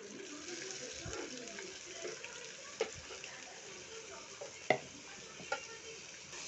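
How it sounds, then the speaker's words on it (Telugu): Chopped onions frying in a pan for bun dosa, a soft, steady sizzle with occasional stirring scrapes and a few sharper clinks, faint and close throughout. "వేసుకున్న ఆనియన్స్ని బాగా ఫ్రై చేసుకోవాలి."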